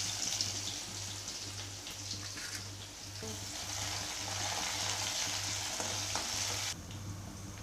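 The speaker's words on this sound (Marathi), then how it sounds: "तेल थोडंसं टाकलेले गरम झालेले, त्याच्यामध्ये आपण जिरं टाकणार, त्याच्यानंतर लसूण टाकायचं" Cumin and garlic fry in a little hot oil for a Maharashtrian pithla, giving a steady close sizzle with occasional stirring scrapes and a low constant hum underneath.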